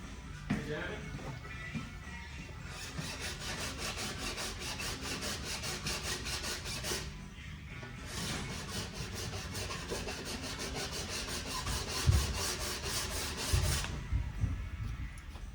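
Steady back-and-forth file strokes rasp against a ski's metal edge to remove rust, close and rhythmic, in long runs broken by short pauses, with a few handling knocks near the end.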